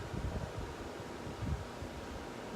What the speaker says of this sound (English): I'm doing this on a windy day.